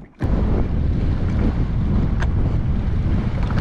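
Strong wind rushing over open water with choppy whitecap waves slapping steadily near a Sea-Doo personal watercraft, a loud continuous roar of gusts and surf with wind buffeting the microphone.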